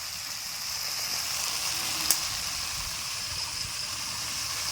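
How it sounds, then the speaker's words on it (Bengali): A steady, hissing sizzle of potatoes frying in hot oil, continuous and fairly close, with one brief sharp pop partway through. "আমি আলুগুলা ভাজতে যাচ্ছিলাম"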